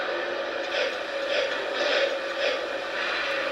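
A Lionel TMCC Chesapeake & Ohio 0-8-0 switcher model locomotive starts up, giving a steady mechanical hum with soft, evenly spaced chuffing pulses about twice a second, close and moderately loud, with no talking.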